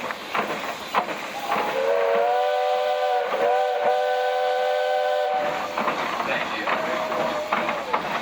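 Steam whistle of a Minneapolis 22 horsepower traction engine in a steam show parade, one long sustained harmonic blast of several seconds with a shorter toot near the end, over outdoor crowd noise and voices.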